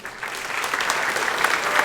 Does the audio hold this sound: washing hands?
no